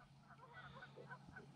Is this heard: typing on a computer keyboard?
no